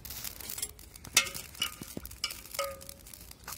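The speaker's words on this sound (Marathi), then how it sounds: "मस्त हलवून घेते आता" Rice stirred in a cooking pot while making masale bhat, a spiced rice dish with lentils: scattered scraping clinks and soft swishes of grains close by, with a faint wet sizzle underneath and no talk.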